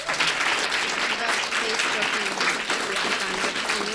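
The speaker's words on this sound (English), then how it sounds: "And now, please give a great round of applause to all of our candidates." Continuous applause from an audience at a city council candidates' election forum, steady full clapping with voices audible beneath it.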